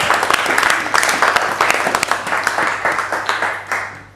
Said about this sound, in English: a round of applause for Thom, please, and a welcome for Mev